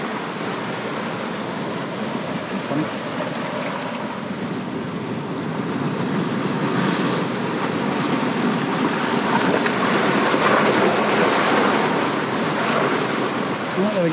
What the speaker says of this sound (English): Oh, water's coming in.